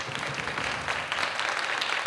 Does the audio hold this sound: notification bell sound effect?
no